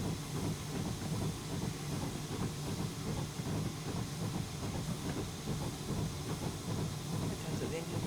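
A Y14 steam locomotive in a train simulator game sits steaming with the blower on and the damper fully open, giving a steady, dense hiss and rumble with faint clicks throughout.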